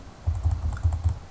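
Computer keyboard keys tapped in a quick run of about five soft, close clicks, shortcut presses for copying and pasting text while making an astronomical finding chart in DS9 software.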